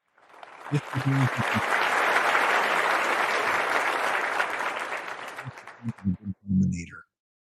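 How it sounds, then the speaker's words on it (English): Loud applause swells quickly and holds steady for several seconds before fading, with a voice talking briefly before and after. "every once in a while, we're just going to play the applause"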